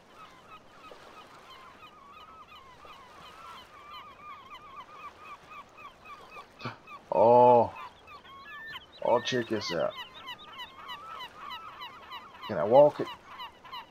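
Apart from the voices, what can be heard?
seagulls calling on a coastal map in a video game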